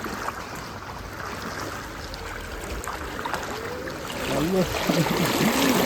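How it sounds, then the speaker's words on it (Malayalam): Strong floodwater current rushes through a street after heavy rain, a steady broadband roar of moving water throughout, with someone speaking over it near the end. "നല്ല കുത്തൊഴുക്കാം ഇവിടെ"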